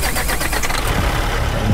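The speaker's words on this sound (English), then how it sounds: "Let's start this engine." A Peterbilt 379 with a 625 HP Caterpillar engine cranks and catches in American Truck Simulator, a loud, rapid starter chatter that settles into a rough, rumbling idle.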